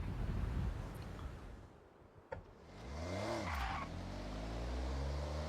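A 1991 Honda Beat in the Forza racing game drives, engine running, then skids with tires squealing and revving back up, loud and close, with no talk.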